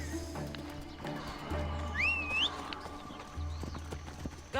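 Rhythmic hoofbeats of a horse in Assassin's Creed Odyssey clip-clopping along at a steady pace, close by, with a brief whinny partway through and a low ambient hum beneath.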